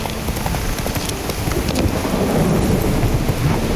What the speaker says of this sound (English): No, there's a storm coming.